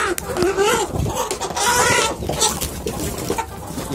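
Free-range chickens clucking and squawking while pecking at mixed feed in a garden pen, several birds close by, with someone talking over the flock.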